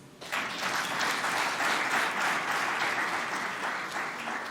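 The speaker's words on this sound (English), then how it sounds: "A round of applause, please." An audience at a stock exchange listing ceremony breaks into applause, a sudden burst of many hands clapping that holds steady for several seconds before easing slightly.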